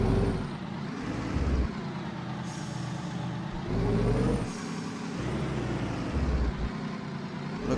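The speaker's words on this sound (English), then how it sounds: "Release the parking brake, test out these trailer brakes here." An Oshkosh Defense HEMTT A4 military truck in American Truck Simulator idles with a steady diesel rumble while loud hisses of parking brake release and air brakes burst out a few times, close and alone.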